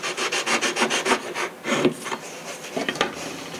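Rhythmic back-and-forth rasping of a sanding bar on wood, close and loud, with quick repeated strokes that slow slightly toward the end, while building model airplane wings.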